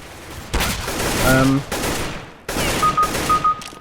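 Loud bursts of CS:GO gunfire, two main clusters of shots separated by a short pause, close and punchy, mixed with game sound effects and a brief tonal beep.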